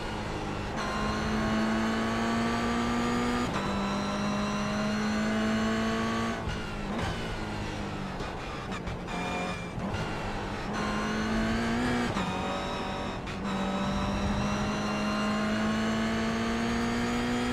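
Race cars in a sim racing game at Okayama, including MX-5, TCR and BMW machines, drone loudly and continuously as engines rise and fall through gear shifts, with other cars close by and no talk.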